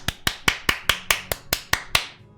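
Ten sharp, evenly spaced claps or snaps ring out in a quick, regular rhythm, close and crisp, each one decaying fast; people at a tabletop game imitate carnival robots clapping.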